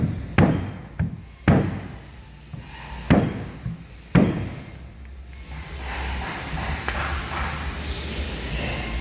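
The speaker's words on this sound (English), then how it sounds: "This hammer's probably 3 or 4 pounds, a little more weight, but it's got the rubber end" Several sharp, solid knocks land in an uneven rhythm, close by, as a rubber-ended hammer of about 3 or 4 pounds taps against wooden boat ribs, then gives way to a softer rustling hiss.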